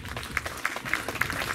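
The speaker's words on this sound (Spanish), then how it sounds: "Un aplauso para ella, por favor" Applause from a small audience at a clown's party show, a thin, steady patter of hands lasting the whole moment, fairly faint and distant.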